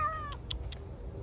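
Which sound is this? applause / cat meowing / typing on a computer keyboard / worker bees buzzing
cat meowing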